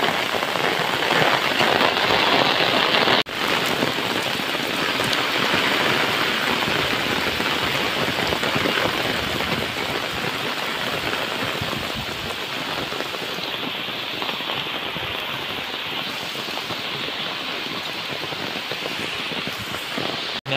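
Heavy monsoon rain pours in the Konkan countryside as a loud, continuous roar that drums on surfaces, with water running and one sharp knock early on.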